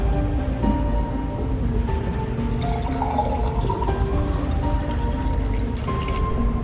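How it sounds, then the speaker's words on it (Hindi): Water poured from a small pot for washing hands in a cartoon: a continuous trickling, dripping stream, loud and close, running steadily throughout with no speech. "अब गुल्ली बुल्ली ने हाथ धो लिया ह"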